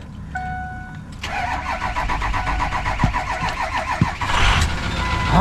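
A Ford 6.0 Powerstroke diesel truck engine cranks with a brief starter whir, then catches and settles into a loud, steady diesel idle with some knocks and a rising rush near the end, with no talking.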